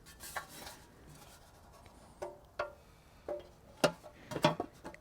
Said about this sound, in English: take our Part 30 filter, pop that onto our reconditioned pan right there